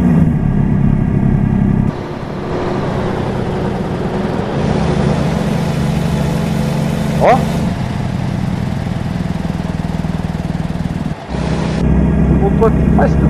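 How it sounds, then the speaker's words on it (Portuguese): A Volvo VNL 670 truck in American Truck Simulator runs with its engine brake on, a steady, loud low drone that shifts in level a few times, with a brief exclamation partway through. "Vou testar o freio motor aqui."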